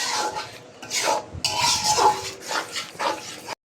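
Yogurt stirred into a chicken roast masala in a pot, with close scraping and rubbing strokes in uneven bursts, fairly loud and with no voices.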